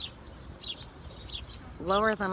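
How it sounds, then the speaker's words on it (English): A little sparrow chirping outdoors near garden shrubs and trees, a few faint high chirps over background noise, then a louder harmonic call near the end as a person speaks. "It's a little sparrow."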